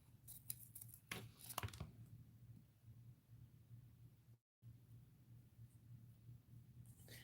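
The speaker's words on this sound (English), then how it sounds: "I'm going to cut these leaves off" A few quick scissor snips through the leaves of a craft flower, sharp and close at the start. Near-silence follows over a low steady hum.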